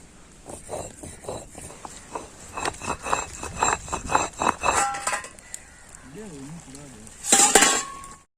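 Metal pan or pot clattering and clinking in a village kitchen while a Tamil chicken curry is made, a run of close dish and utensil knocks followed by a brief sharp clank near the end.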